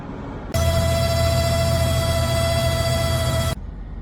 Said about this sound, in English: the horrible noise was coming from the Speedo, and as you can see, the needle actually broke in half first while it started screaming